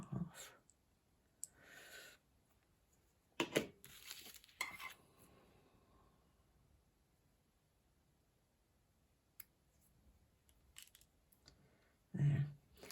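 Small scissors snipping thin dried fruit slices for acrylic nail art, a few quiet, sparse clicks and cuts spread across a mostly hushed tabletop scene.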